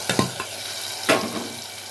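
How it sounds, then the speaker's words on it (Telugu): Hot tempering poured into cooked dal gives a sharp sizzle, followed by a second burst of frying hiss and light stirring, close and loud with no talk. "తాలింపు వేసేస్తే పప్పు అయిపోయింది"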